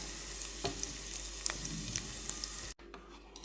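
Garlic frying in a pan while being stirred quickly, a steady close sizzle broken by a few scraping clicks, cutting off abruptly near the end to a quieter hiss.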